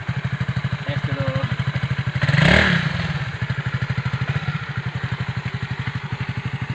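A Sonic 150 cc motorcycle, its clutch housing newly replaced, runs on a night test ride along a forest road. The engine pulses steadily and loud throughout, with a brief surge of rev and wind noise near the middle.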